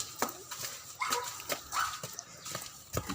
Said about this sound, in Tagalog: Ading may aso.